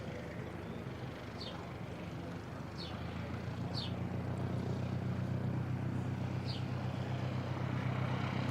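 An ATR turboprop aircraft departing Christchurch airport in New Zealand, heard as a steady, distant engine drone that swells slightly over several seconds, with faint bird chirps above it.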